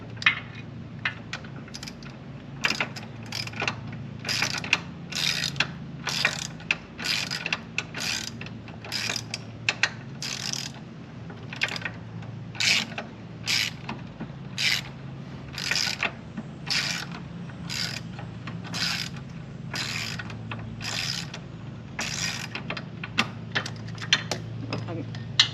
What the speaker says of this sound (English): we're gonna remove the 19 millimeter bolt that holds the body to the mount